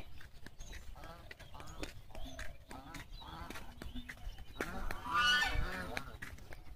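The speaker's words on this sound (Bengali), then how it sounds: "আমার রাজহাঁস দেখবেন, দেখাই। ওই যে দেখেন রাজহাঁসগুলো" Domestic geese honk in a busy, overlapping chorus at moderate distance, growing louder toward the end, amid outdoor background noise at a village home.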